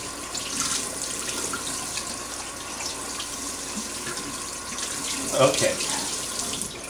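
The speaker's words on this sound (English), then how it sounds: "we give a thorough rinsing, and you can see the flow here" Tap water pours into a sink to rinse a vinyl record, a steady close running stream with shifting splashes as the flow hits the disc, and one brief spoken word.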